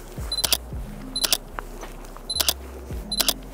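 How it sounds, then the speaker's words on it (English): Four camera shutter clicks, each a sharp mechanical snap with a brief motor whir and faint beep, evenly spaced and close. "Does anybody else think the shutter on this camera sounds like a paintball gun?"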